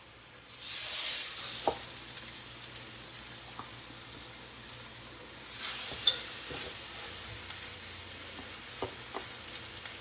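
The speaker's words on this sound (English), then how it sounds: "let's start putting some of these chops in this pan" Teriyaki pork chops hit a hot skillet one after another, loud hissing sizzle bursting up twice and settling into a steady close fry with light clatter.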